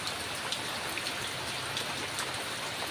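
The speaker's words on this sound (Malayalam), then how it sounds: "എന്താണ് ഉഷാറ് മഴൻ്റെ ഉഷാറ്" Heavy rain pours steadily, a dense continuous hiss of drops drumming on surfaces nearby.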